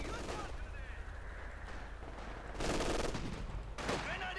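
Light machine guns rattle in bursts during a Company of Heroes 2 battle between Soviet and German forces, with sharp crackling volleys and distant explosions mixed under a commentator talking over the action.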